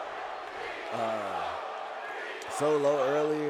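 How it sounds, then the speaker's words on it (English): A wrestling crowd in an arena chants in rising and falling unison, heard as a steady roar that swells in two waves, while a commentator talks over it. "you hear the crowd chanting, "We want smoking.""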